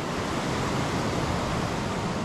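Swollen Ixcán river in flood during Hurricane Julia, a steady dense roar of rushing water filling the whole clip with no pauses or voices.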